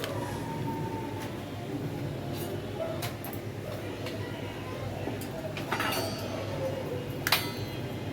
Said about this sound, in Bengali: তো এবার আমি মশলাটা নাড়ছি, তো ভালো করে আগে নেড়ে নিই।